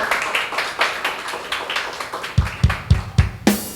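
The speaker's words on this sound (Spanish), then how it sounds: "denle un fuerte aplauso a Dios" Church congregation clapping during a sermon, a run of separate hand claps that grows into louder, heavier rhythmic beats toward the end, with no talk over it.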